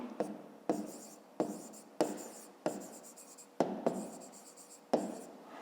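Pen strokes on paper while working a fifth-grade maths exercise, a series of about eight short scratchy bursts at a steady rhythm, close and fairly quiet, with no talking.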